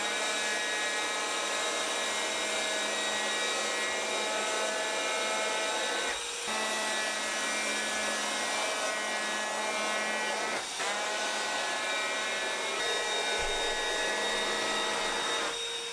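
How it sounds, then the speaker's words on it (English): An electric planer runs steadily while jointing the edges of wooden boards, giving a continuous loud whirring drone with a few brief dips as passes end and restart, close by, with no voices. "I'm going to try using my electric planer for the first time."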